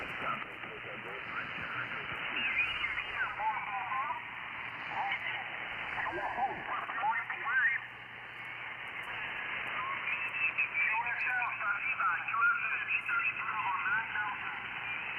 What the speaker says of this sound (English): he's got the reverb on that audio there